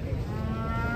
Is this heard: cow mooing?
yes